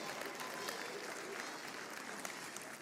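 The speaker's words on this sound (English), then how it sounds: "Y'all give him a round of applause" Banquet audience giving a round of applause, a dense even patter of clapping heard at a distance and fairly faint, lasting a few seconds.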